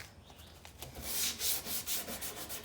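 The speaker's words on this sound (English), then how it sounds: "you go through some sandpaper on this desert ironwood." Sandpaper rubs by hand over a desert ironwood knife handle, starting soft and building into a series of loud, close, rhythmic scratchy strokes.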